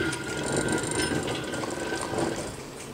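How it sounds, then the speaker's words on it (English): An old hand-cranked butter churn being turned, giving a steady run of close, clicking ratchet-like gear rattles throughout, moderately quiet with no talking. "You crank this and you churn your milk"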